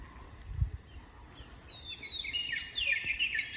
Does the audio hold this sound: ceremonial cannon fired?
no